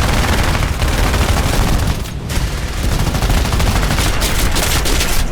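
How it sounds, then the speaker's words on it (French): Machine guns on B-24 Liberator bombers of the 464th Bomb Group firing tracer rounds during a 1944 aerial battle, a loud, dense, continuous roar of gunfire and booms with a brief dip midway. "tous les mitrailleurs du box du 464e Bomber Group vont répliquer à leur tour dans un déluge de feu visible grâce à leurs balles traçantes"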